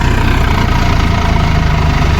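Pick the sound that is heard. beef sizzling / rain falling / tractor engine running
tractor engine running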